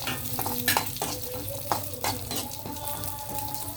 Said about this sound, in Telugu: ముందు జీడిపప్పులు కొంచెం వేగితే తర్వాత కిస్మిస్లు వేయచ్చు.